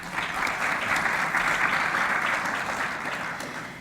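A conference audience at the Smart Procurement Indaba applauds the panel, a dense, even wash of clapping from a large room that continues steadily throughout.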